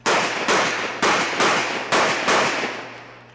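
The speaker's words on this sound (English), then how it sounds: "You can just see Calvin really just shooting a little bit quicker" Six loud, sharp gunshots crack at a USPSA shooting match, fired in quick succession about half a second apart outdoors, each with a short ringing decay.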